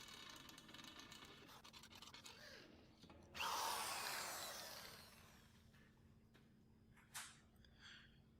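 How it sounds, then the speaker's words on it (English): Power drill boring through a steel smoker lid with 1/16 and 3/16 inch bits, a faint scratchy whir that bursts into a louder grinding bite, fades out, then gives a short final spurt, heard alone. "I'm doing a 2-stage drilling process here with a 1/16 and then a 3/16 inch drill bit"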